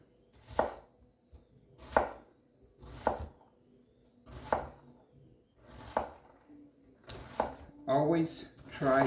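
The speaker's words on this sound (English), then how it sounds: "See how nice that knife slides through there?" A sharp kitchen knife chops food on a board while a lasagna dinner is prepared, with about seven evenly spaced, close knocks followed by a louder burst of cutting near the end.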